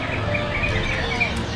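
An old bird in a cage chirps close by, giving several thin, bright calls over a steady background hiss with no clear talk.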